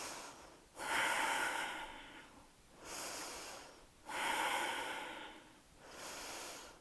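Slow, deep breaths during a yoga session, heard close and alone: four long airy exhales or inhales spaced about two seconds apart, each swelling and then fading.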